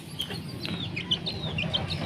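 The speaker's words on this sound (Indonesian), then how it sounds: "Ini ayam gede. Ayam adu" Large fighting rooster clucking in a backyard coop, a series of short, fairly close calls over a low ambient hum.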